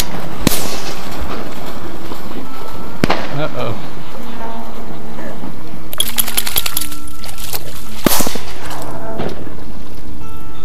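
Shotguns fire at waterfowl outdoors, several sharp loud blasts spread across the stretch with two standing out, while people talk around them.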